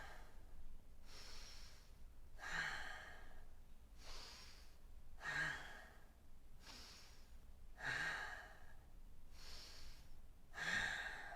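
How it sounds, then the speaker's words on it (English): Slow, deep breaths during a yoga class, about five long inhale-exhale cycles in a steady rhythm, close and fairly loud with an airy, slightly snorting quality and no talking. "Again, 5 deep breaths."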